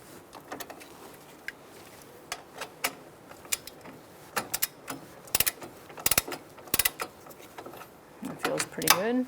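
Socket wrench ratcheting on an old brake caliper bolt going into a new caliper on a 2007-2012 Nissan Altima, with scattered sharp clicks and short ratchet bursts that grow busier toward the end, close and fairly quiet.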